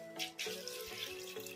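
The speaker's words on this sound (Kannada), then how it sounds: "ಈಗ ಇದಕ್ಕೆ ಒಂದು ಸ್ವಲ್ಪ ನೀರು ಹಾಕೋಣ." Water pours from a vessel into a pressure cooker holding green peas in a home kitchen, a close, continuous splashing and trickling over a couple of seconds, with no talking.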